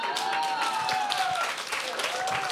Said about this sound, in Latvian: Aplausi abām komandām.